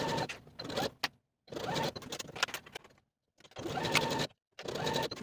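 A home sewing machine stitches the shoulder seams of a knit column dress with a 3/8 inch seam allowance, running in four short bursts with brief pauses between them, close and moderately loud.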